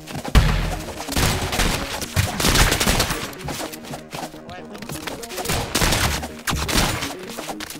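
Rapid gunfire in the video game Rounds, with dense, repeated shot bursts firing in quick succession over busy game sounds.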